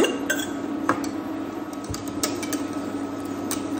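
Custard thickened with cornstarch being stirred in a saucepan as it comes to the boil, a continuous faint scraping with light clinks of utensil against metal and a low steady hum beneath.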